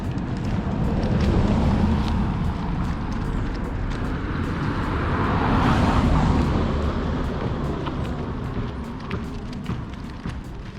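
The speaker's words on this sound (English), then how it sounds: "Another car." Car passing on a tropical road in Port Antonio, Jamaica, a moderate road rumble that swells to a peak midway and then fades, with faint ticking in the background.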